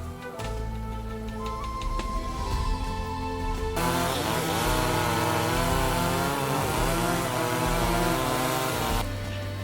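Chainsaw run by Indonesian shipbuilders in Bira, Sulawesi, cutting wooden planks for the side of a Phinisi boat; the engine drones steadily and loudly, rising to a harsher cutting roar partway through and holding for several seconds.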